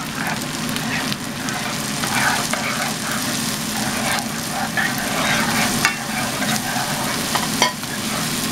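Seasonings stirred into rabbit chili meat sizzling in a pan, a constant hot frying crackle with soft scraping strokes of the spoon throughout, close and loud, no talking.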